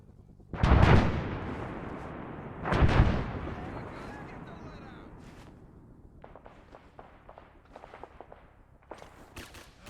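Covering gunfire in the Vietnam War video game Vandal Commander, Viet Cong campaign: two heavy, booming blasts close together open the clip, then a lighter patter of scattered, fainter shots and clicks rolls on under a low battlefield rumble.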